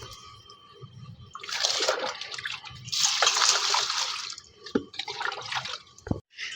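Crushed snails washed by hand in water, giving bursts of splashing and swishing with drips and a few sharp knocks against the container between quieter pauses, close up.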